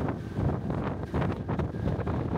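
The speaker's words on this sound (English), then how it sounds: "It sounds windy" Steady sea wind on a cruise ship deck buffets the microphone in rough gusts, a continuous rushing roar with no voices.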